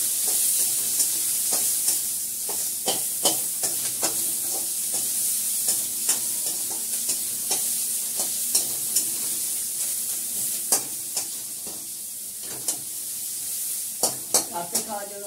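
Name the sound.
onions frying in a pan for dal tempering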